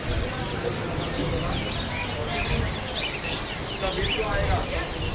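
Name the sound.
birds chirping at a pet market near CSMT station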